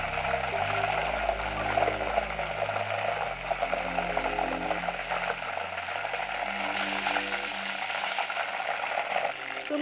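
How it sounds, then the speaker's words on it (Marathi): Homemade ghee in a pan hisses and crackles steadily after water is sprinkled in, a loud, dense frying sizzle lasting throughout over soft background music. "आपण पाण्याचा ह्याच्यात शिपक देणार आहे."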